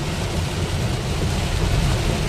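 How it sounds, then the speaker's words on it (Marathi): Heavy rain with thunder during a Konkan monsoon trip near Ratnagiri roars as a dense, loud, unbroken wash of noise heard from inside a moving car. "लय जोरात पाऊस आहे, लय जोरात पाऊस आहे. खतरनाक पाऊस आहे."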